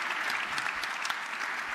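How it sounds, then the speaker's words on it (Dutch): A live audience at a local Dutch community event breaks into applause, a full, continuous burst of clapping from a crowd that stays steady and fairly loud from start to finish. "dat we gewoon af kunnen sluiten met een heel groot applaus"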